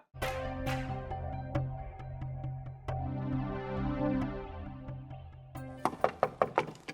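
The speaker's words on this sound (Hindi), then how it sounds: "खटखट हो रही, कोई आया है तो खोल।" Knocking on a house door: sharp single raps at irregular spacing over a low domestic background hum, ending in a quick run of several louder knocks, with no talking.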